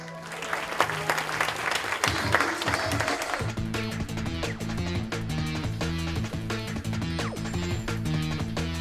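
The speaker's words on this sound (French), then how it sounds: "Mesdames, Messieurs, applaudissez." Loud applause from a crowd at a children's stage show of Charlie and the Chocolate Factory in Camphin-en-Pévèle, dense clapping that gives way after a few seconds to upbeat music playing over continued clapping.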